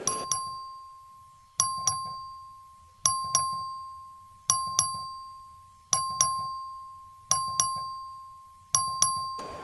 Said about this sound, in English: It's a record vote. The clerk ring the bell.